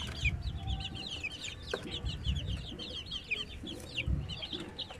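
Young Shamo Aseel chickens cluck and peep in a low pen. Rapid high chirps overlap close by, with occasional deeper clucks and soft thumps underneath.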